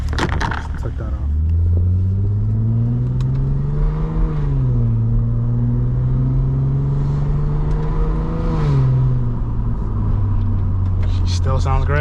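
A crashed Lexus IS250 engine idles with a low steady rumble, rising in a brief rev around four seconds and again near nine before settling back, close and continuous, with a voice speaking over it.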